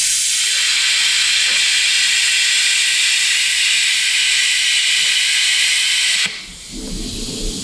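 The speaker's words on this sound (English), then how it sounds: "So let's do this on this piece of 6mm here. We're gonna do a quick gouge." An ESAB 230V plasma cutter gouges a 6mm steel plate with a loud, steady, harsh hiss and roar that holds for about six seconds before the arc cuts off, leaving softer air rush and shop noise.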